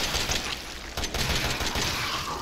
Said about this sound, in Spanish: Vamos a gastar la de ametralladora.